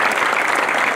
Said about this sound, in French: Et je tiens à vous dire d'applaudir ce jeune homme-là